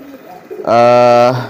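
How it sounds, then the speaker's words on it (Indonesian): A market pigeon gives one loud, drawn-out coo close by, preceded by a few faint, scattered sounds. "ini merpati pasar, teman-teman"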